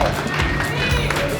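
A comedy-show audience claps and cheers for comedian Mr. Davis, a dense, loud wash of applause filling the room with crowd noise and voices mixed in.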